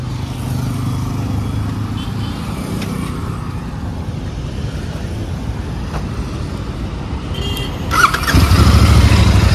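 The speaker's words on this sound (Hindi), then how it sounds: "सबसे पहले इसका एग्जॉस्ट नोट आपको सुना देते हैं।" A 2024 Royal Enfield Continental GT 650 exhaust rumbles steadily at close range, then grows louder as the engine revs up near the end.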